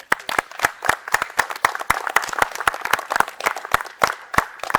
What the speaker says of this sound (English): We have a round of applause for everyone that's read.